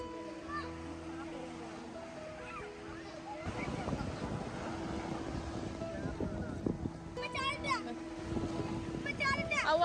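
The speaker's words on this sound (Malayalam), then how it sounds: "നമ്മളിപ്പോ സ്കൂബയ്ക്ക് പോവാണ്, ബോട്ടിലാണ് പോകുന്നത്." Boat ride out to a scuba diving site off Lakshadweep: a steady motor drone under wind buffeting and water splashing, with people talking and a tonal hum early on, growing rougher and louder midway.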